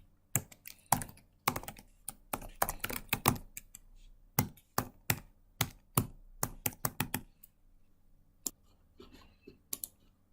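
Fast typing on a computer keyboard while patient details are entered, a rapid run of sharp, close clicks in uneven bursts with short pauses, then a few scattered keystrokes near the end.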